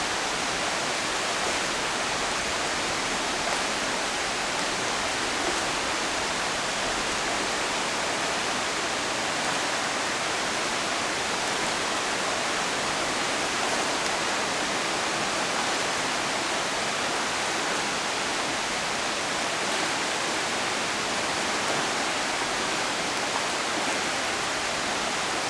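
A flooded stream, the Right Fork of the Holly River in Webster County, West Virginia, rushes past in a dense, constant roar of water that is steady and enveloping throughout, with no speech.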